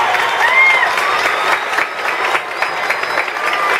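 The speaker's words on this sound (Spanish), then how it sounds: "Llévale un fuerte aplauso." A stadium crowd greets a visiting band from Guatemala on a field in Honduras with sustained, fairly loud applause and scattered cheers. Some whistles rise above the clapping.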